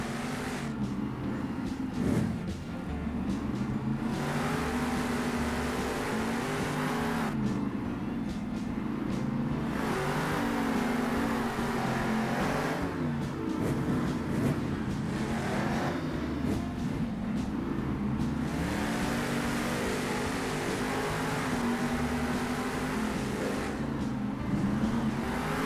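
The monster trucks Zombie and Dragon race at a Monster Jam event in San Diego. Their engines roar loudly and continuously, rising and falling with revving for about twenty-five seconds.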